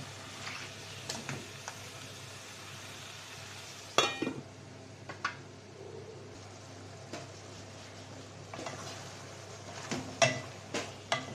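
A Pangas fish head and ash gourd curry is stir-fried in a pan, giving a low steady sizzle under repeated scraping and clinking spatula strokes. Several sharper clanks stand out near the start and again toward the end.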